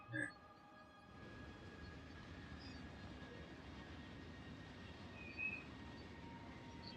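A train rolling along in the factory-building video game Factorio, a steady low mechanical rumble with faint rail clatter holding evenly throughout, with a couple of brief louder bumps.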